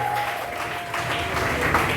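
Church congregation applauding during a Gospel Church service, steady dense clapping filling the space with a sustained tone and some voices mixed underneath.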